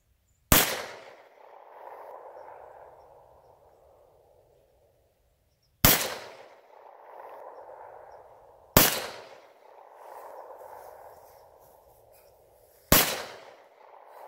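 Four sharp, loud rifle shots fired at propane tanks outdoors at a Thanksgiving gathering, each crack followed by a rolling echo that decays over a couple of seconds, spaced irregularly with quiet gaps.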